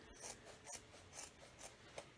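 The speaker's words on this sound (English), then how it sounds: "I'm literally just going to cut straight across the top of these jeans" Scissors slicing straight across the top of a pair of denim jeans, giving a series of rasping cuts in a steady rhythm, close and fairly quiet, with no talking.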